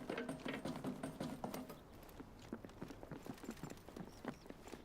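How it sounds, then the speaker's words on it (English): Quick, scampering footsteps sound in the video game Delta Force, a fast run of close, sharp taps that loosens into a lighter, irregular pattern of steps. "When you hear a bunch of scampering of footsteps like that"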